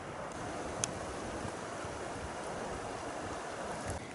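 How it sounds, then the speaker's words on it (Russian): Strong wind on a shore on a gusty spring day, driving waves into a steady, loud rushing roar with constant buffeting and no pauses; no voices. "Дюже сильно ветреный день. Шумит, волну гонит."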